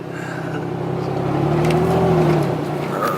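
An off-road vehicle's engine labors in low gear, a loud, steady drone with the pitch rising and sagging slightly as it lugs along, heard close without any talk.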